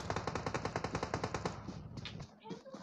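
Rapid, evenly spaced gunshots from a video game custom match hit a player in a fast machine-gun rhythm for about a second and a half, then fade into scattered quieter game sounds.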